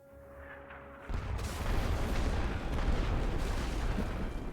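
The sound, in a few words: massed artillery barrage hitting trenches in The Great War video game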